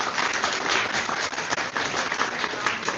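Audience applause fills a bar hosting a live astronomy trivia night, steady, dense clapping from a crowd with no break for the full three seconds.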